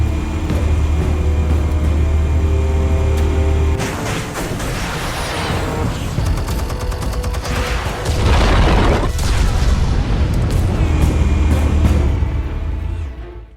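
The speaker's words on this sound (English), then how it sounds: "Explosives armed. Fire when ready." Explosives detonating in the Batman Telltale game, Realm of Shadows episode: a steady low rumble cuts into a series of loud, close booms and crashing debris that swell, fall back and keep rolling for several seconds before fading.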